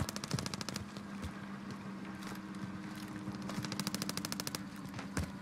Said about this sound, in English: That guy's sniping.